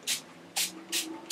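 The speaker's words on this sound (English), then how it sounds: "This is my wig control spray. I'm gonna put some of this on here" Four short, sharp hissing bursts of wig control spray are aimed at a lace wig, evenly spaced about half a second apart and close by.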